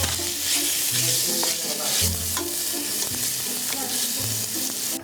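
Onions and ginger fry in hot coconut oil with a loud, continuous sizzle, broken by repeated scraping stirs of a spoon against the pan, and no one speaks.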